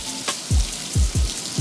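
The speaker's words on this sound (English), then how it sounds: "A little bit of hail." Hail falling during a thunderstorm in Phoenix, heard as a steady broadband patter with several low, heavy thuds of stones striking nearby surfaces at irregular intervals.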